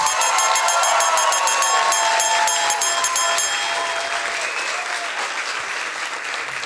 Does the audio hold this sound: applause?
yes